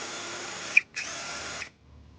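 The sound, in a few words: drilling holes with 3/16 drill bit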